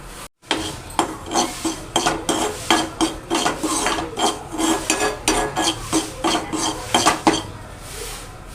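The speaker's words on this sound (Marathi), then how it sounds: "छान परतून घ्यायचं आहे रव्याने" Moong dal and semolina are roasted in a pan, with a metal spoon scraping and clinking against it in a steady rhythm of close, rasping strokes, about one per half second, with no talking.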